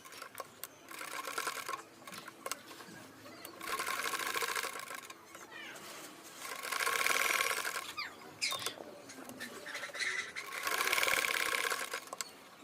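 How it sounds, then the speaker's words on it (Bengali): A sewing machine top-stitches fabric over a flower appliqué on a salwar, running in three separate whirring bursts with short pauses between them. "এরপর ফুলের উপরেও চাপ সেলাই দিয়ে নেবেন"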